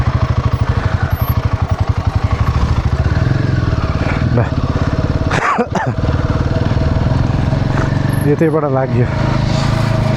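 A motorcycle engine runs loud and close with a steady throbbing putter while riding along a path toward a river, rattling and clattering at moments, as someone talks over it.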